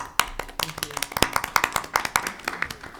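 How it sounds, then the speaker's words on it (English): Applause breaks out at a school board meeting after a motion passes, a short round of scattered hand claps from a small group in a meeting room, fairly close and irregular. "You got a round of applause right now"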